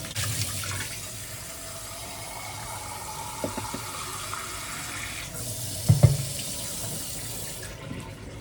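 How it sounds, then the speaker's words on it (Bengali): Running water from a tap splashes steadily as algae is rinsed off aquarium plant leaves, with a few brief knocks and handling sounds close by and no talk. "ওই শ্যাওলাগুলোকে একটু বসে বসে ধুয়ে নেওয়া দরকার। পাতাগুলোকেও একটু ধুয়ে নিলাম।"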